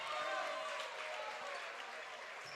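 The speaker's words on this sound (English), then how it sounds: "Big crowd pop for number 23" Crowd at a high school boys' basketball game cheers and applauds as a player enters, a broad roar that fades slightly, with an announcer talking over it.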